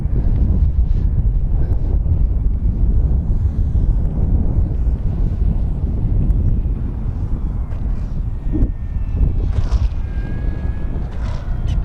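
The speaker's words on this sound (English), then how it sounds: "Yeah, it's windy." Steady wind buffeting the microphone at a paved runway during a radio-controlled E-flite V1200 plane's flight, a loud continuous low rumble with gusty roaring throughout, over faint engine drone.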